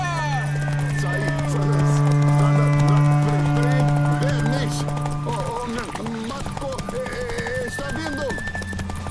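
Horses gallop and neigh in The Witcher 3, rapid hoofbeats under game music and sustained tones, with people talking over the action.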